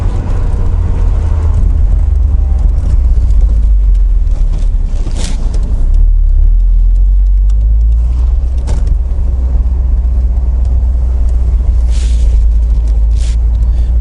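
A Mercedes SLK pulls out of a hairpin bend at full throttle on a climbing road, its engine a loud, steady, heavy drone that holds strong throughout with no one speaking.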